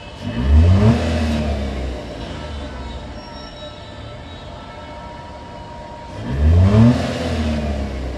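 An idling car engine running on CNG gas revs twice, with a loud close rise near the start and again near the end and a steady idle hum in between.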